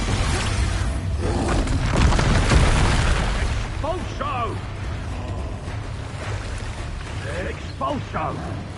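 Booming Expulso explosion spell in Hogwarts Legacy, a loud blast followed by rumbling debris and crackle, with a player's voice calling out spells and several short chirping cries afterward.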